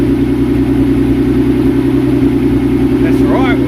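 A Nissan March fitted with a VQ35DETT twin-turbo V6 and a new exhaust idles with a loud, steady, droning rumble throughout; a short voice-like sound cuts in near the end.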